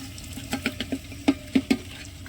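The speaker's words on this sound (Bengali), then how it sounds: "এই চালটা এবার এর মধ্যে দিয়ে দিচ্ছি।" Soaked rice tipped into a pot of partly cooked chicken, making a series of soft, wet pats and splashes close by, the last few louder, with no talking.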